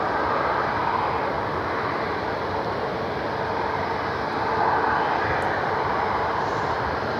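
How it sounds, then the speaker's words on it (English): A Frontier airliner landing at Cleveland Hopkins airport, its engines a steady broad roar from a moderate distance that swells slightly midway, with no talk. "Frontier, I think, is landing on the left side."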